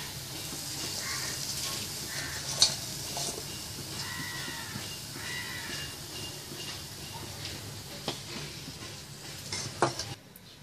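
Prawns fry in hot oil in a pan for a dry chilli prawn dish, giving a steady, close sizzle with occasional clinks and stirring scrapes, and no talk.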